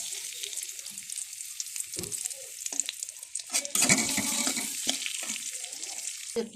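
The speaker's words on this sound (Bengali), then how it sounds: "পেঁয়াজ রসুনটাকে সুন্দর করে আমার ভাজা হয়ে গেছে।" Chopped onion and garlic, with dry chillies, frying in oil in a wok: a close, continuous crackling sizzle broken by soft stirring scrapes and a louder swell midway, with no voices.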